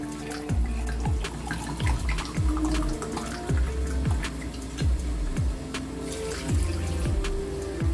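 White wine poured from a glass into a pot of Cuban rabo encendido, a trickling, splashing liquid stream with repeated gurgling pulses, heard close and alone.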